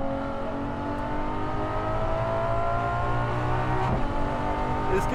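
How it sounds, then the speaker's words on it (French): A Ferrari LaFerrari engine revs at about 4000 rpm, a loud, steady mechanical drone with a rising tonal whine and a brief sharp shift near the end, no voices present. "On n'est qu'à 4000 tours minute et le son est déjà incroyable."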